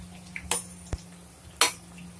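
Onion pakoras frying in a pan of oil get turned over, giving soft sizzling under a few sharp metal clinks and scrapes of a utensil against the pan.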